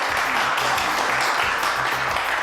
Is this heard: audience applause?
yes